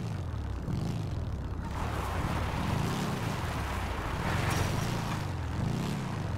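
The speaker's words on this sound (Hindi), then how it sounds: "ये इसकी बाइक भी बढ़िया है, लमार की, साउंड बढ़िया है इसका।" A motorbike engine in the video game GTA 5 roars continuously, its pitch rising and falling in repeated waves as it revs.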